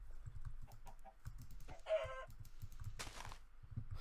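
A chicken in the Minecraft video game gives a few short clucks and a squawk, fairly faint, over quiet low game sounds and a brief burst of noise near the end.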